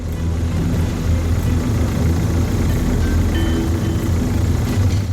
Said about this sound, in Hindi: ये इंजन की आवाज है।